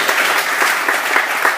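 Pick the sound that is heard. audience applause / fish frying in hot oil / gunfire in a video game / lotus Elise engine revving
audience applause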